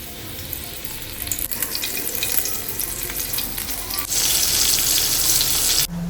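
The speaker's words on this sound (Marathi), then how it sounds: "तोपर्यंत मी हे फिश आहे ना ते फ्राय करून घेणार" Pomfret fish shallow frying in oil in a pan, a steady close sizzle and crackle that swells louder in the second half, with a brief clatter near the end.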